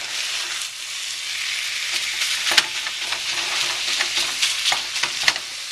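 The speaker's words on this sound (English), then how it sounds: "you can now hear it. It's starting to sizzle" Ground beef sizzles steadily in a hot pan, a constant crackling hiss with scattered sharper pops and a few stirring scrapes.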